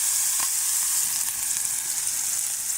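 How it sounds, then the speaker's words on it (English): Sliced sausage browning in a skillet, a loud, even, hissing sizzle throughout with a couple of faint taps from a utensil. "I decided I'm going to go ahead and brown those up in a skillet first."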